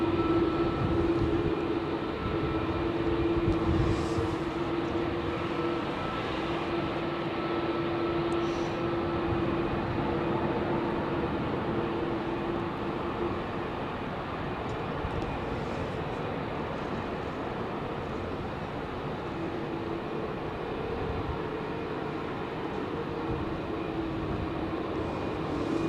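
An airliner departing Heathrow's runway 27L produces a continuous, rumbling engine roar, heard from a distance at moderate volume. The roar stays broad and steady for about twenty-six seconds with no voices over it.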